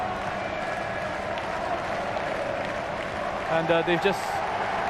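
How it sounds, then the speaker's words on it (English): A stadium crowd at an Indonesia versus Thailand football match roars and applauds in a broad, steady wash, swelling briefly near the end, beneath a commentator speaking over it. "Just listen to that crowd."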